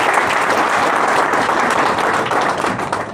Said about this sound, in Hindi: जोरदार ताली बजाइए इस बार।